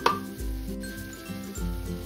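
A ground spice paste for chicken fries in oil in a pressure cooker pot, a soft steady sizzle punctuated by a couple of stirring scrapes and a light metallic clink, close by with no talk.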